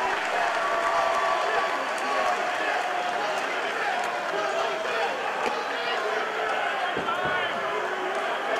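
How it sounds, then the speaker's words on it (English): A crowd at a live wrestling event roars and cheers steadily through the whole stretch, with a commentator talking loudly over the noise. "This crowd's coming nuts."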